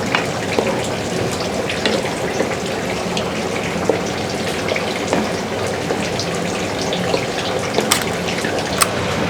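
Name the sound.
coconut milk frying and reducing over medium heat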